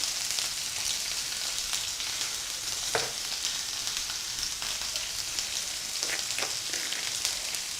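Chopped onions and green chillies sauté in a pan for a tomato sabji, giving a steady, soft sizzle and crackle with occasional louder pops and stirring scrapes, with no voices.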